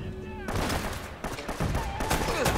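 Gunfire in Uncharted: Drake's Fortune, sounding as a dense run of shots and impacts with several sharp bursts over about two and a half seconds, loud and close amid game noise.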